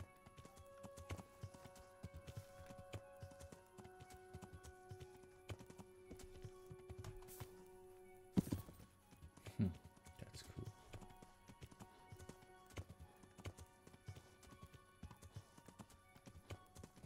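Hooves from a horse in the video game Kingdom Come: Deliverance beat in a steady, rhythmic clip-clop at a gallop, faint and continuous throughout, with brief sharp game sounds partway through.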